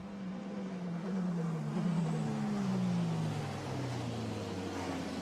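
A Formula Renault race car drives through Blanchimont at Spa-Francorchamps in the rain, its engine note droning and slowly dropping in pitch as it powers past, moderately distant.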